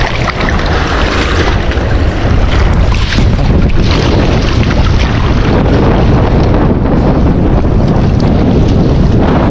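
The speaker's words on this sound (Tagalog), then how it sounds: "dito po ay medyo mahangin na po" Strong wind roars and buffets the microphone in loud, gusty rumbles, with water sloshing underneath and no voices.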